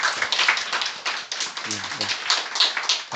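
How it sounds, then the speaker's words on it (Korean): A church congregation claps to welcome first-time visitors, scattered uneven hand claps with a speaker's brief voice over them. "뜨거운 박수로 환영하겠습니다"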